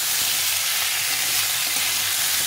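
Ridge gourd and potatoes frying in a pan, giving a steady, dense sizzle that holds evenly throughout with no pauses and no talking.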